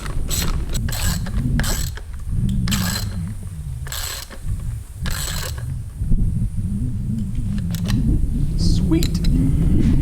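Ratchet wrench fitted with a deep socket turning a bolt, with loud repeated clicking ratchet strokes in bursts, close up, over a steady mechanical background.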